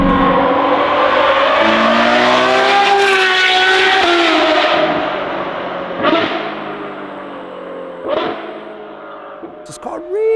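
A Novitec-tuned Ferrari 812 N-Largo S with a naturally aspirated V12 pulls hard with a loud, rising engine note, then drops sharply at each upshift. Several brief gaps mark the shifts before the revs climb again toward the end.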